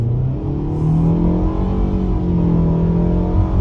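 A 2022 Mitsubishi Outlander Black Edition accelerates hard, its engine drone climbing steadily in pitch over several seconds, close and prominent from inside the car with no talking.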